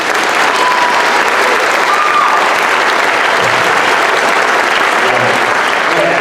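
Audience at a middle school band spring concert claps loudly and steadily, a dense, even wash of applause filling the room throughout.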